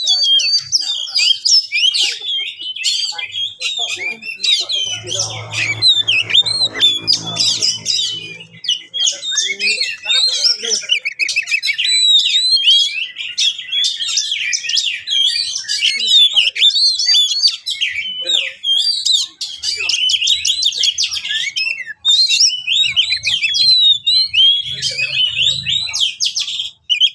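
An oriental magpie-robin sings loudly and almost without pause, a dense run of bright whistles, trills and chirps close to the recorder, with a few brief low murmurs underneath.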